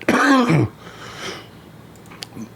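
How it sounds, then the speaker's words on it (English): A loud, strained cough or throat-clearing bursts out up close, then fades into quiet room noise with a few faint clicks. "Coughed my soul out on that one."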